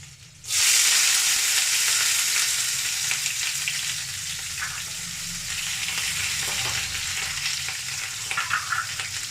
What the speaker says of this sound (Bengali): পেঁয়াজটা একটু ভাজা ভাজা হলে